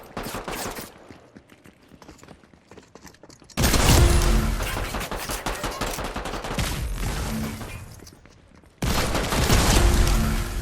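Gunfire rattles through a Fortnite match, bursts of rapid shots and booms that start faint and distant, then turn loud and dense in close sustained volleys with brief pauses.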